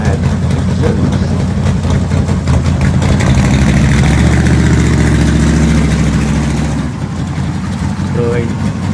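A pro street muscle car with an aftermarket exhaust idles nearby with a deep, loping burble that builds slightly then eases as it passes, with people talking over it.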